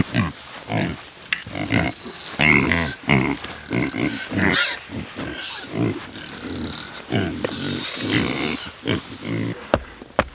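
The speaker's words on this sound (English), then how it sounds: "Let's feed some piggies first." Pigs grunt and oink at feeding time on a winter farm, a busy run of close, short grunts and squeals with occasional brief human voice in between.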